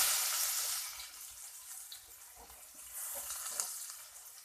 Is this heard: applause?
no